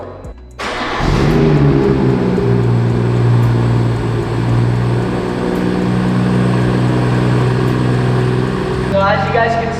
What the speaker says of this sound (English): So let me show you guys what it sounds stock.